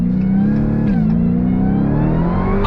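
A 2022 Dodge Challenger Hellcat Jailbreak's supercharged engine roars loudly up close, its note climbing steadily in pitch as the muscle car accelerates hard under throttle, with no talk over it.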